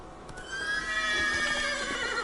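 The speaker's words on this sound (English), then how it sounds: "Luckily, Geralt can count on his horse Roach to help him through his travels." A horse neighing in the video game The Witcher 3, one long loud whinny that rises and wavers over about two seconds, with a faint thud near the start.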